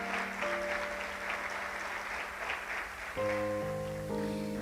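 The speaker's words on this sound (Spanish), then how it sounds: "Le damos un fuerte aplauso al Señor" A church congregation claps loudly and steadily for the Lord, warm sustained applause mixed with organ or keyboard chords that shift partway through.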